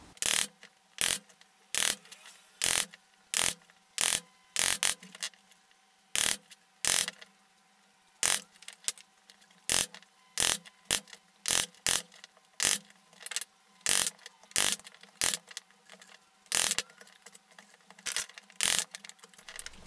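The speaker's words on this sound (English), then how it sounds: "we're just going to hack out our material, being very careful to keep the chisel straight up and down." Chisel chopping a mortise by hand in wood for a face frame gives a long series of sharp, woody taps at a fairly steady pace, crisp and close, with short quiet gaps between strikes.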